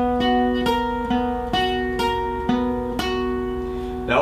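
Picked acoustic guitar chords for a song, struck about every half second, each note ringing out clearly in a steady arpeggio, with one chord held twice as long near the end before a final strum.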